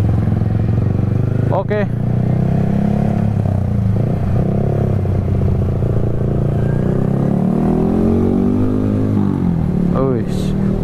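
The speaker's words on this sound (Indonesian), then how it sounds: "Suara motor atau suara knalpot yang enak itu bukannya kayak gitu suaranya." Motorcycle engine and exhaust on a narrow street: a steady, close, low rumble throughout, with two brief rising revs near the start and end, while people talk over it.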